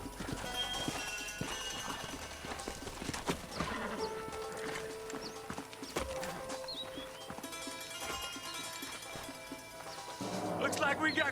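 Horses in the Red Dead Redemption video game, hooves clip-clopping and a horse neighing amid busy game sound effects and music, with sharp impacts scattered through and louder activity near the end.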